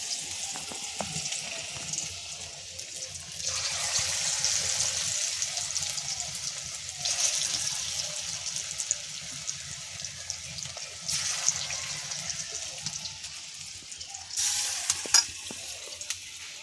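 Onion-batter piyaji fritters fry in hot oil, a loud, steady bubbling sizzle that swells in waves as more batter drops in, with occasional light clinks nearby.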